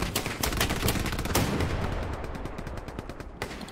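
Rapid gunfire from the World War II shooter game Hell Let Loose crackles in dense, repeated bursts, loud and continuous, with no talking.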